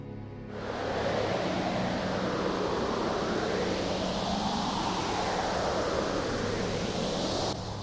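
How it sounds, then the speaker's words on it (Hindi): Cold wind blowing hard through a snowy night, a steady, loud broadband rush that swells and ebbs slightly, continuous and alone for the whole stretch. "बाहर ज़ोरों से ठंडी हवा चल रही थी"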